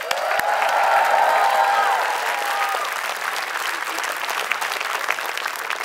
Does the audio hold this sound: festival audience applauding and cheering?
yes